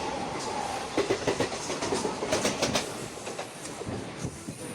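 A Mumbai local train runs steadily, its wheels beating a rapid clickety-clack over the rail joints, with rattling carriages and a constant rumble throughout and no voices.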